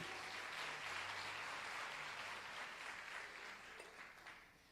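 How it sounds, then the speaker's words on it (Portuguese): Church congregation clapping during a worship service, a soft, steady round of applause with a faint sustained instrumental tone beneath, tapering off toward the end. "Aplaude a Jesus mais uma vez."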